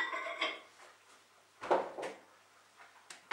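A plate of food is set into a microwave for breakfast, with quiet clinks of dishware and a soft clunk of the door, a few separate knocks and rattles at close range.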